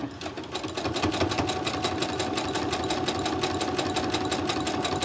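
A sewing machine runs steadily, sewing a narrow zigzag stitch on a crazy crumb quilt block, with a fast, even mechanical clatter close by.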